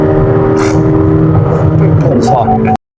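2026 Corvette ZR1X accelerating hard, a loud close engine roar rising in pitch under excited speech and exclamations, cutting off abruptly at the end.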